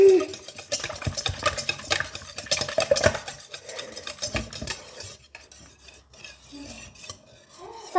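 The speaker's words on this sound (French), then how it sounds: "je mélange le yaourt et l'œuf" A utensil scrapes and clinks against a bowl while yogurt and egg are stirred together, close and continuous, with the irregular stirring rhythm easing off in the last few seconds.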